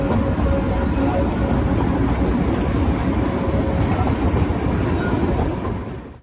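The Darjeeling to Kurseong joyride toy train runs with a loud, close, continuous rumbling rattle of wheels and carriages that fades slightly at the very end.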